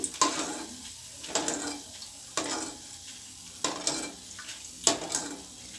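Boondi drops for laddu frying in hot oil make a bubbling sizzle, broken by regular stirring and scraping strokes of a ladle in the pan, about one every second, close and moderately loud.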